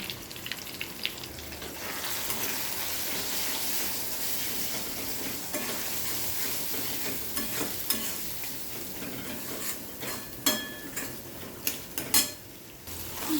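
Meat and potatoes with chilli, coriander and cumin powders sautéing in a pan, a steady sizzle under continuous stirring, with sharper scrapes and clanks of the spoon growing louder toward the end.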